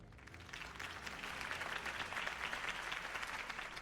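A crowd claps and cheers after a mayoral campaign speech in the Batman Telltale video game. The applause is dense and sustained and rises slightly as it goes, with no voices over it.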